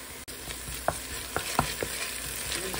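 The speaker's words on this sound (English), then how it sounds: "Then add 3 cloves of garlic for 1 minute." Onion and garlic sauté in a pan with a steady soft sizzle, broken by several light scraping taps of a utensil stirring them, close up and fairly quiet.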